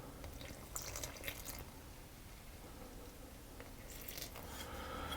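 Water poured into crumpet batter in a home kitchen: soft, quiet splashing and trickling that comes in brief bursts near the start and again toward the end, with no talking.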